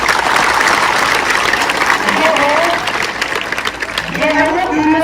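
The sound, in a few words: school children clapping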